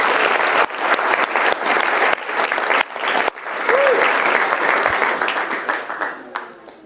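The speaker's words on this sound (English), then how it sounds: "Can we have a big clap for Audrey," Wedding guests at Trim Castle Hotel give a loud, sustained round of applause that fills the room for several seconds before thinning out near the end.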